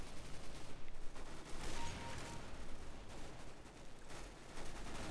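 Rapid gunfire from a Counter-Strike: Global Offensive Arms Race match, a dense run of weapon shots and bursts filling the whole stretch at steady loudness.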